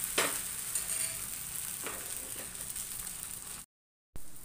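Thin rice-flour batter for neer dosa is poured and swirled onto a hot pan at home, giving a steady sizzle with soft scraping swirls throughout, close and clear, then a brief dropout of silence near the end.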